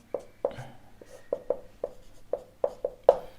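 A pen or marker writes an answer by hand during a physics lesson on vectors, leaving about a dozen short, crisp strokes and taps spaced at a steady, uneven pace, close and clear with no talking over them.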